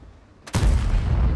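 A tank cannon shot striking a turret in a tank video game, heard as one abrupt heavy blast after a quiet lead-in, then a loud rumbling decay close up, with no talk.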